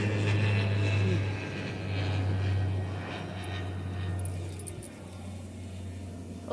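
An airplane flies overhead above a forest, its engine giving a sustained low drone that slowly fades toward the end, heard alone at moderate distance.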